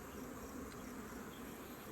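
Honey bees inside a beehive make a dense, continuous buzzing hum, close and steady throughout, with no talking.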